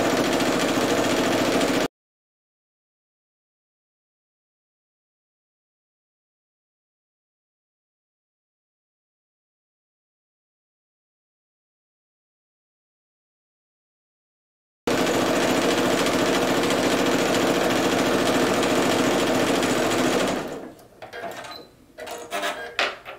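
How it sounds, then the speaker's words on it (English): A sewing machine stitches a quarter-inch seam on a star quilt block with a steady, close mechanical whir. The sound cuts out for a long silent gap, resumes, then slows into sparse clicks and thumps. "I'm going to sew on the other side of the line at 1/4 of an inch seam allowance"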